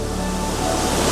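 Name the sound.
mountain waterfall with crystal clear water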